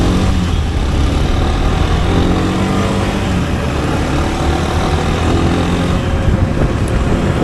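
Steady, loud road traffic on the highway to Kathmandu, a dense continuous roar of car and motorcycle engines close by, with no talking.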